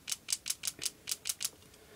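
The trigger mechanism of a Polar Star airsoft gun clicks about eight times in a quick, even rhythm, crisp and close, with no voices.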